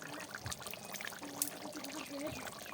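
Cooked mutton curry with a thin, lightly spiced gravy pours out close by, a continuous liquid trickle with small splashes over faint background noise.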